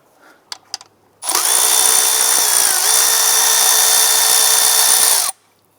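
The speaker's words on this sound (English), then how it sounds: "we're going to use our 10mm socket. Remove this bolt." An Acura TL intake bolt is run out with a 10mm socket on a power tool, with a few faint clicks and then a loud, steady high whine lasting about four seconds before stopping abruptly.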